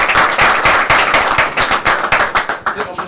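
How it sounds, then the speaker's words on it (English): Energetic clapping from a small group at a press conference, rapid and uneven, continuing for a few seconds at close range. "Round of applause for the two players."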